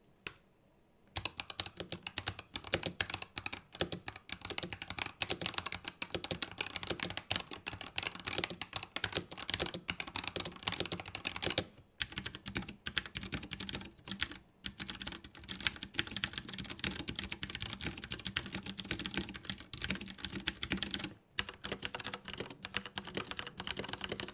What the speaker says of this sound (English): There is no metal on metal contact to register the keystrokes since they're optical, so the entire movement up and down is clean, effortless, loud when you bottom out